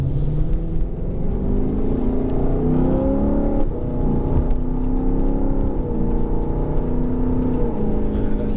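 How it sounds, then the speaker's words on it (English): A 2018 Lexus LC 500's naturally aspirated V8 drones and rumbles loudly from inside the cabin, its pitch rising and falling as the car accelerates and shifts. "it's a pretty good sounding car"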